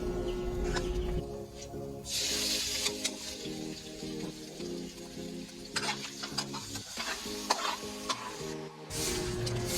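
Beef fat sizzles in a pan while being sautéed for Ilocano beef papaitan, a steady close crackle and hiss punctuated by stirring scrapes and occasional sharper spits.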